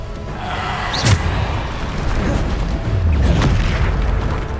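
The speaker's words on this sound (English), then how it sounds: "Bombarda." A Bombarda spell blast in Hogwarts Legacy lands as a deep boom near the one-second mark, with a second, softer rumbling burst later, both set in a constant dense bed of game sound.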